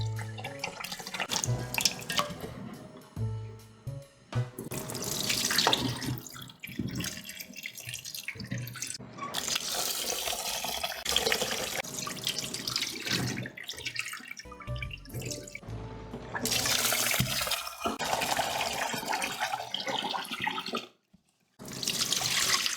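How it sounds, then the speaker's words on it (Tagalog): Two cups of rice being rinsed in a bowl under a running kitchen tap, with splashing, swirling and dripping water, loud and close, pausing briefly near the end. "Atin na itong hugasan ng 3 beses."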